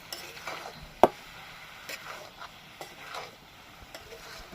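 Catla fish oil with potato and eggplant is stir-fried in a pan: a soft continuous sizzle under periodic scraping strokes of a spatula, with one sharp clack of utensil against the pan.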